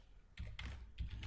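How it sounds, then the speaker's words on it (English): Someone types on a computer keyboard, setting up a Jupyter command. There are three short bursts of clustered key clicks, close and quiet, with no talk. "So I'll type in Jupyter"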